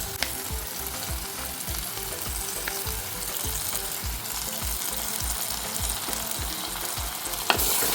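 Onion with green chili and ginger garlic paste sautés in a pan for a chicken feet curry, a steady close sizzle broken by regular scraping stirs and a few sharp clinks, with no voices.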